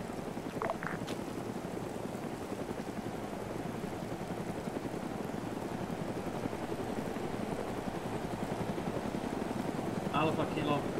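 Helicopter in the Arma 3 video game, a steady rotor and engine drone running loud and continuous throughout, with faint radio-style chatter breaking through briefly near the start and end.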